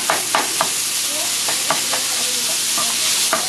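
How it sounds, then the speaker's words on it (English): Pork for Vietnamese rice porridge stirred and fried in a pan, a loud, close sizzle punctuated by sharp, irregular spatula clacks against the pan, with no speech. "And we're just going to cook the meat."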